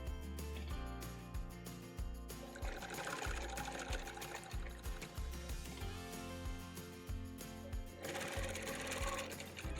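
A sewing machine stitches an orange peel quilt in quick continuous runs of rapid needle chatter, loud and close, with brief pauses and changes in speed between bursts.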